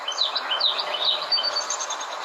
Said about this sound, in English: you got the birds trying to harmonize with you